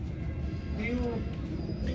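Pigeons coo softly amid the steady bustle of a large pigeon market, with low murmuring voices and crowd noise nearly covering the calls.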